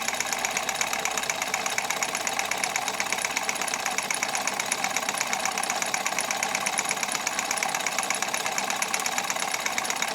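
Two small model Stirling engines sharing one fuel block run together, giving a steady, fast mechanical ticking and clatter that holds evenly throughout, close and moderately loud with no talk.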